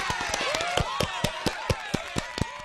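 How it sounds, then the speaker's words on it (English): A podcast audience gives a round of applause for Bridget and Holly at Camp Nicolet, a steady patter of claps with scattered sharper hits, carried for a few seconds without talk. "Why don't we give Bridget and Holly a big round of applause."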